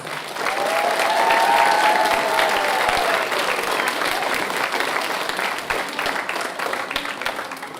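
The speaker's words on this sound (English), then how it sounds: "Let's give all of our winners a round of applause." Audience applause for award-winning students at a school board meeting, a sustained burst of clapping filling the room and slowly tapering off.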